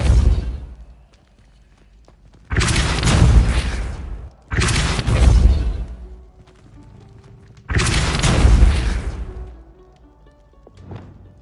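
Spell effects from the video game Hogwarts Legacy: three loud, broadband bursts of magical impact, each roughly a second and a half long with a booming low end, separated by short gaps, then a faint tail.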